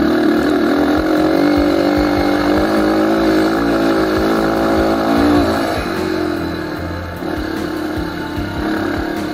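Honda CRF 150 motorcycle accelerating on an empty mountain-top road in early morning. The engine revs loudly and steadily close by with shifting pitch, then drops back to a lower drone.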